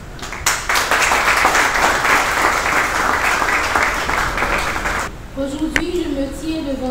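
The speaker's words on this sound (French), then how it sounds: "je vous demande d'applaudir chaleureusement ce centre de formation, d'innovation en formation spécialisée SIFOS." Dense, steady applause from an audience at a certificate ceremony for a training program, a broad crowd of clapping hands that runs loud for about five seconds before breaking off into a quieter room.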